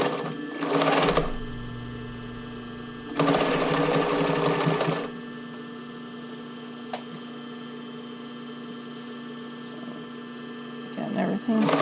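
A sewing machine stitching stretchy sports bra fabric runs in two loud bursts of rapid whirring, separated by a lull filled with a low steady electrical hum.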